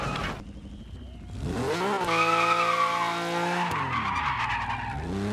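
Tires squeal loudly as a Lancia Stratos rally car skids with locked wheels in the Assetto Corsa Rally video game, with a long screech over the engine note as it swoops in pitch.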